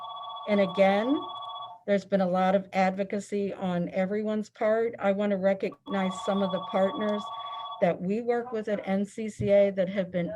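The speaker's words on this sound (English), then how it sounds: "I am so sorry about that phone." A telephone rings with a repeating electronic bell tone in two bursts during an online webinar, sounding under continuous speech from a presenter.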